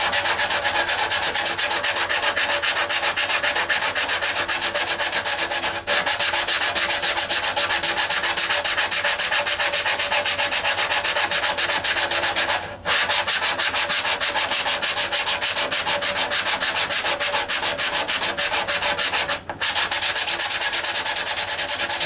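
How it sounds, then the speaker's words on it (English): Continuous rough scraping of 80 grit sandpaper on the finish of a 2003 Martin DM acoustic guitar, steady and close, broken by a few very brief pauses. "I'm going to go at it with the 80 grit again."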